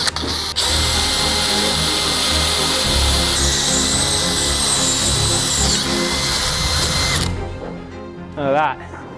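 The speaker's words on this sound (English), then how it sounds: "let's get cracking and get these holes drilled" A power drill boring holes through thick steel beams, a loud continuous whine that shifts pitch midway and cuts off near the end, followed by a brief voice.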